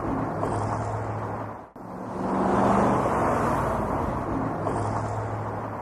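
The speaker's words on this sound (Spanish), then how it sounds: "Tráfico urbano, 80 decibeles." Busy city road traffic, a continuous loud broadband roar of cars and heavier vehicles with a brief dip early on, then steady passing engine noise.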